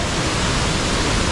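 Roar of Shoshone Falls, the waterfall on the Snake River, heard up close: a dense, loud, steady broadband rush of falling water that fills the whole moment without a break.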